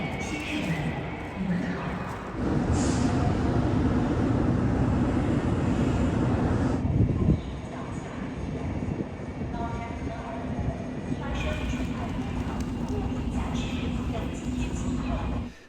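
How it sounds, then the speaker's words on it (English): Busy Xi'an North Railway Station in China ambience with a steady low rumble of trains and rolling stock, a crowd murmuring throughout, and a high whine of a train at one point. "a few sights and sounds of Xi'an North Railway Station, the biggest in the country"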